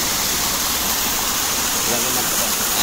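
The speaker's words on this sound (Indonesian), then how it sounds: "Sungainya sangat jernih." A clear river stream flows in a steady, dense rush of water, close and continuous throughout with no breaks.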